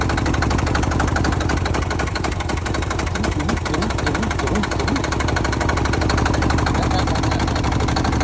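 A Kawasaki KLR650 dirt bike converted to a diesel engine runs steadily with a rapid, evenly pulsing, clattering idle, loud and close, holding constant for the whole stretch.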